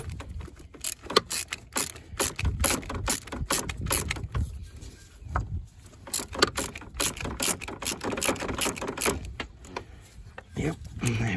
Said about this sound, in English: use the tension bolt that has a Allen head bolt on it and loosen that one up